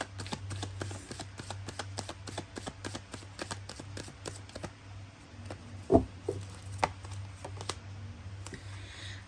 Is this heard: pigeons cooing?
no